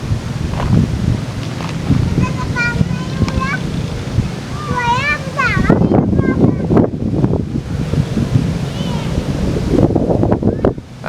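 Strong storm wind buffets a camping tent at Emte Highland, Ciwidey, roaring and flapping in steady, loud gusts, with brief voices heard within the rushing noise.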